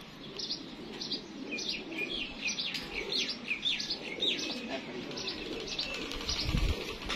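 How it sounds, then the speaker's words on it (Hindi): Pigeons coo and chirp repeatedly at moderate distance, with soft rustling and faint background noise beneath the calls. "तगड़ा कबूतर है"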